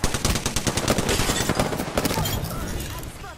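Rapid automatic gunfire in Apex Legends rattles in dense, close bursts, loud and steady, then thins out toward the end.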